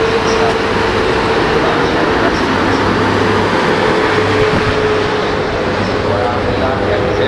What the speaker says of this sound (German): Der Zug ist in der Ankunft, also der Intercity-Zug